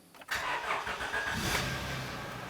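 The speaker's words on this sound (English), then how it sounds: "Now what we're going to do is go ahead and start up the vehicle." A 2004–2008 Acura TL starting after a timing belt kit replacement: a brief crank catches into a steady, even engine run close by, with no speech.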